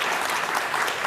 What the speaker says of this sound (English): I feel like we should clap for that one